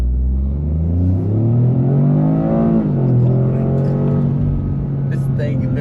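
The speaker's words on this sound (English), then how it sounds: "I'm just gonna just floor it." A 2025 Toyota GR Corolla accelerates at full throttle, its engine note climbing steadily and loudly from inside the cabin, then dropping briefly at a shift before pulling again.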